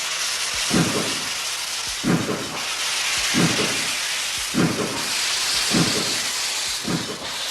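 A steam locomotive gives off rhythmic chuffing exhaust bursts roughly every 1.3 seconds over a continuous broad hiss of steam, loud and close with no voices.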